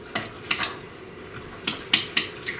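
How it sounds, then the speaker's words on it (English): Baked oatmeal muffin batter is mixed in a bowl with a utensil, a handful of light clinks and scrapes spaced irregularly over a faint background. "All right, so I'm mixing this all together."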